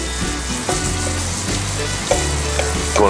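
Split shrimp sizzle loudly in a cast iron pan over an open fire, a dense, steady frying hiss close up with a few soft clinks of stirring.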